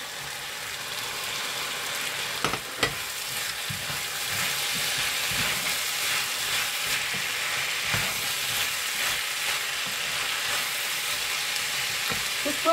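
Green beans and potatoes sizzle steadily in a pan for a French beans and potato sabji, with a couple of utensil clinks early on and a constant soft frying hiss.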